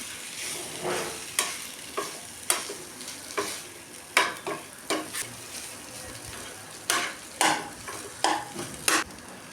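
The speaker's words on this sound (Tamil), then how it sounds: "கொஞ்சம் கட்டியாக இருக்கிற உருளைக்கிழங்கு நல்லா கரண்டி வச்சு நல்லா மசிச்சுக்கணும்" A ladle mashing and stirring potato masala for bondas in a pan, making a run of sharp, evenly spaced scrapes and knocks against the metal over a faint sizzle, close and distinct, with no voices.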